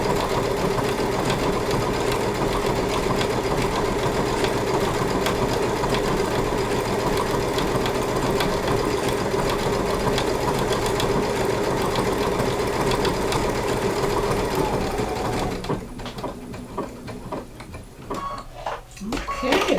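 A sewing machine stitches appliqué in a loud, steady, even whir for most of the stretch, then stops and leaves quieter handling noises and faint room sounds.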